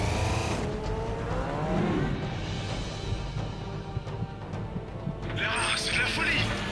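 Motorcycle racing toward a ramp in the PS3 game Tomb Raider Legend, its engine a steady loud roar throughout with shifting whine, and a bright burst of effects near the end, with speech mixed in.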